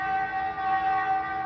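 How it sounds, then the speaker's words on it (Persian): A sustained warning siren wails steadily at a coalition base in Iraq, the alarm for incoming mortars and rockets, heard loud and unbroken with no voices. "صدای این آژیر که خبر از آمدن خمپاره و موشک می‌دهد، در ماه‌های اخیر بارها و بارها در پایگاه‌های ائتلاف در عراق به صدا درآمده"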